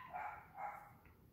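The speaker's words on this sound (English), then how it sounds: "you hear my dogs?" Dogs barking in the distance, two muffled barks in quick succession, faint and alone with no talk over them.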